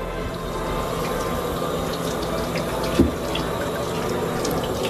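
Steady running water from a tap fills the whole stretch with an even, close hiss, with one brief knock near the end.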